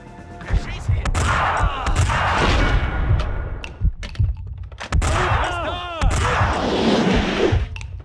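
Max Payne 2 video game gunfire: sharp shots crack through rumbling, continuous action noise, with bursts of impacts and clatter. Game voices are heard amid the shooting.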